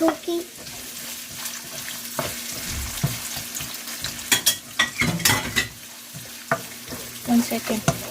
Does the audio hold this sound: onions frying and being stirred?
yes